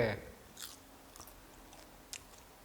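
Chewing a crispy baked fish snack, soft crunching bites near the mouth, faint and intermittent, with a few crisp cracks and no speech.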